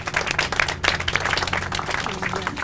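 Audience applause for the Columbus Board of Realtors volunteers at the Franklinton Botanical Sculpture Garden event, a steady dense patter of clapping with crowd noise and some talk mixed in.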